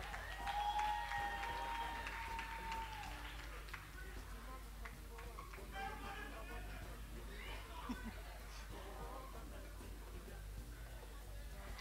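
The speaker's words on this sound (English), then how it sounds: "Please clap for Trudy." Scattered applause from a pageant audience at a special awards presentation, fairly faint and uneven, with a background voice and some hall noise.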